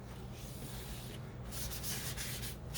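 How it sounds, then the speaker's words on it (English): Ink being rubbed by hand across an acrylic-painted double-page art journal collage, a steady close scratchy rubbing that grows louder and brighter toward the end, with no voices. "I'm gonna pick some of this ink up, rub it on"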